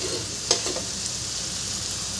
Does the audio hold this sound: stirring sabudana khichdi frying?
yes